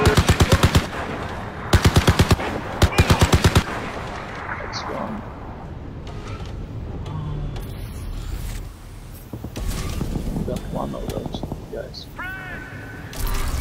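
Rapid bursts of turret gunfire in the video game Crysis 3, at a train depot, come in several short loud volleys, followed by scattered combat noise and explosions, with voices talking over the action.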